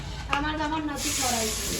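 Dal being tempered in hot oil gives off a steady close sizzle and hiss with a brief clatter near the start, and the frying grows brighter and fuller in the second half.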